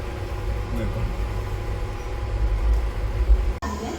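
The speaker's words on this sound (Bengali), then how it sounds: "খড়গপুরে ট্রেন দাঁড়িয়েছে, এখানে 5 মিনিট হল্ট দেবে।" A train stands at Kharagpur station with a steady low rumble and hum of idling rail cars, people talking nearby, and a sharp clunk near the end.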